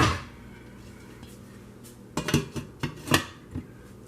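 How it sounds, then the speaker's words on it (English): A metal lid is set onto a cooking pot of stewed fish, giving a short series of close clanks and rattles as it settles. No one speaks. "I'm going to put cover on it."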